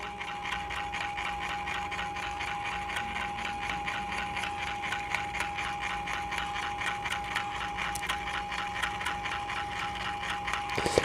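Pro Trim Elite electric auto scissors running their trim function: a steady, buzzing motor with a fast rapid clicking of blades, held loud and close for the whole stretch, with sharper snips near the end.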